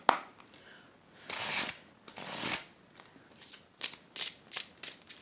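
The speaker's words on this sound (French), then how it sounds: "on va piger une carte" Cards from an angel oracle deck are shuffled and riffled by hand, with several soft bursts of brushing and flicking, close and quiet with short pauses between and no talking.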